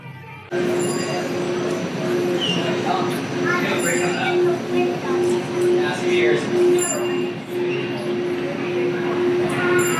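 A Disneyland monorail train rumbles with a steady electric motor hum and rolling rail noise, close and fairly loud, while indistinct voices murmur in the background.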